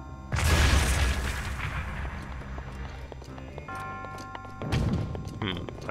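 Heavy thuds land at the start and again near the end over a low rumbling soundscape in The Legend of Zelda: Breath of the Wild, with tonal beeps in between.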